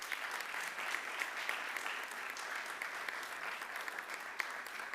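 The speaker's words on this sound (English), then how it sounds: "Let's give these folks a round of applause." Quiet, continuous applause from the audience at a town council meeting, a soft even patter of many hands heard from a distance for five seconds with no speech.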